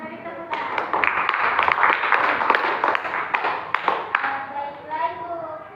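A class of students applauds in a classroom, a dense patter of clapping running throughout with children's voices chattering over it.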